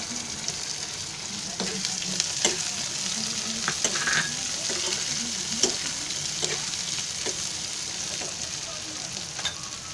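Two onions sizzle and fry steadily in hot oil in a home kitchen, a continuous close crackle with occasional stirring clicks and no talking.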